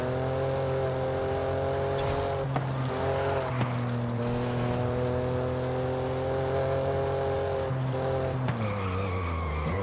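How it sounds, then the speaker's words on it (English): A sports car in the racing game Forza Horizon 5 holds a steady, deep, throaty exhaust drone with tire squeal, dipping briefly as it shifts or lifts off the throttle. "I like the exhaust, man. It's actually kind of throaty and deep, you know?"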